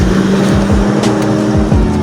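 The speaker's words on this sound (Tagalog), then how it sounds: "Kaya maraming sasakyan na dumadaan na" Several vehicles pass by on a street one after another, their engine rumbles rising and falling in a steady succession of close, loud passes with no talking.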